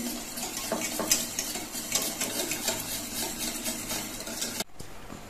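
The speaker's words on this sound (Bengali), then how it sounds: "এই টক দইটা আমি ফেটিয়ে নিচ্ছি" Sour yogurt being whisked in a bowl, a steady run of quick, close scraping and clinking strokes with a watery texture that stops abruptly near the end.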